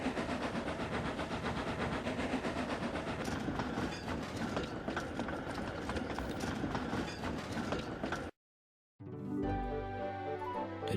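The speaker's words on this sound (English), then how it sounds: "The two engines were puffing smoothly along the main line, pulling the heavy freight cars." Train noise of two steam engines hauling heavy freight cars along a main line, a steady loud rumble with rhythmic wheel clatter, cutting to brief silence near the end before a softer musical passage.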